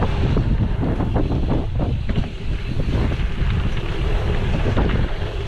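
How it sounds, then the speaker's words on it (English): Strong wind buffets the microphone outdoors during a fast descent, a loud continuous rumble with gusty surges that fills the whole stretch with no voices heard. "It's windy, isn't it?"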